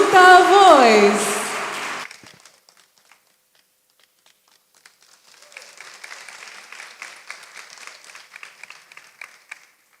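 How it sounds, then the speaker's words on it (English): An audience at an international seminar on fish and fisheries sciences breaks into applause that starts faint after a short silence and builds into steady, moderate clapping, following a brief spoken voice. "Let's give round of applause for Duta Voice."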